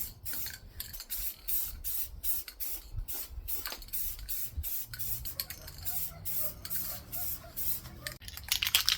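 Clear coat sprayed from an aerosol can onto a car headlight, a series of short hissing bursts with brief gaps between them, close and fairly quiet, with a few light clicks and rustles.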